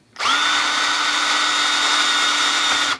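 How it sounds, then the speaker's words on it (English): A power drill fitted with a drill bit spins up and bores into the top of a workpiece, a loud, steady whine lasting about three seconds before stopping abruptly, with no talking. "Now I'm going to take a drill bit, and I'm not going to drill all the way through."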